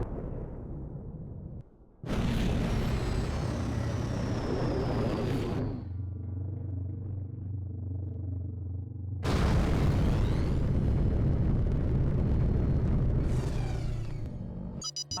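An incoming missile in the space combat game Rebel Galaxy Outlaw brings two long, loud bursts of rumbling, roaring explosion, separated by a lower humming lull, with no voices.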